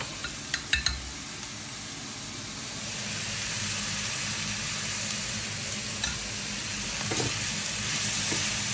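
Vegetables with a little salt sauté in a pan for a lasagne, opening with a few clinks of the utensil before a steady hissing sizzle swells and continues, with occasional stirring taps.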